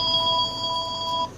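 A telephone rings in a steady electronic warble, a single continuous burst of about a second, clear and fairly close, in a garage-like room with no speech.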